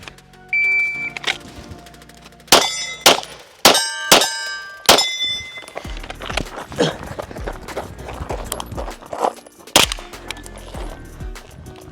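Rounds from a PTR MP5 clone strike steel targets, producing a handful of sharp, ringing metallic clangs in an uneven sequence, with clatter and softer knocks between them.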